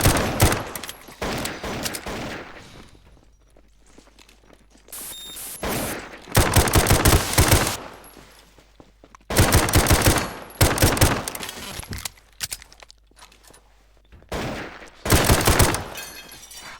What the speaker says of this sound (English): I repeat, shots fired.